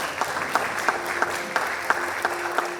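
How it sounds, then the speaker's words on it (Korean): Congratulatory applause rings out at a Korean ESG management award ceremony, a steady, somewhat distant clapping crowd with a few sharper claps standing out, no speech over it. "다시 한번 축하의 박수 부탁드리겠습니다."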